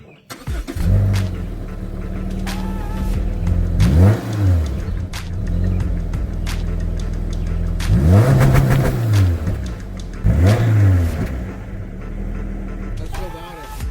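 A 2017 Subaru Impreza hatchback with its muffler deleted idles with a steady rumbling exhaust, then revs in three sharp rising bursts, close and loud, with the engine dropping back to idle between them.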